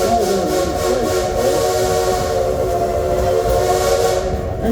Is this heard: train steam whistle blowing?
yes